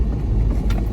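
A 4WD driven off-road in rear wheel drive through rough valley terrain, its engine a loud low rumble heard close up in a brief burst.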